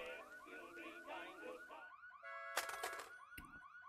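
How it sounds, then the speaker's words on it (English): A car alarm in the horror video game Massacre At The Mirage, cycling through looping electronic warble and whoop patterns, loud and alone, switching to sharp rapid chirping bursts partway through. "Oh, it's just a car alarm."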